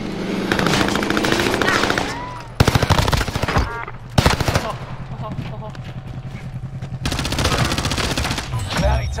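Rapid automatic gunfire from an AK-47 in the Call of Duty: Warzone video game on Rebirth Island, in loud sustained bursts with a few sharp single shots, close up, while players talk over it.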